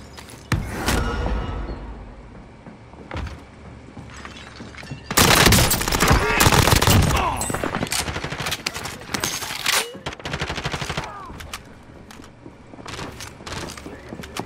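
Call of Duty Modern Warfare gunfire comes as sharp single shots at first, then dense automatic bursts in the middle, followed by scattered shots, with game voice lines over them.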